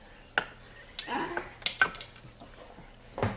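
A spatula scrapes around the sides of a mixing bowl while pinto beans are being cooked, producing a few distinct clinks and scrapes spaced apart over quiet kitchen background.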